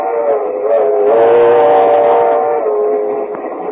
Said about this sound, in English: So we now find Mr. and Mrs. George Burns in a compartment on a train approaching Kansas City.